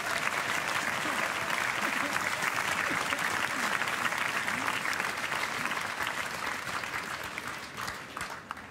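Sustained audience applause for a class of students about to finish their Abitur at a remembrance event, dense and steady clapping from a full room that tapers slightly toward the end.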